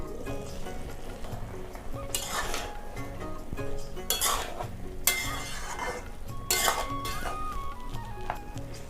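Muri ghonto is stirred in a pan with a metal spoon, giving four or five separate bursts of scraping and clinking against the pan over a quiet background hiss, with no speech.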